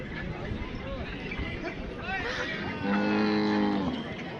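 A bull gives a long, deep moo near the end, rising over a busy background of murmuring voices and bustle at the crowded Lasur Station bull market.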